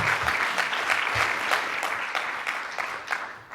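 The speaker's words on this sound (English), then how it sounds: "Can we have a round of applause for Brian and the team" An audience at an international entrepreneurship summit at the United Nations claps in a sustained round of applause, steady and full, gradually thinning toward the end.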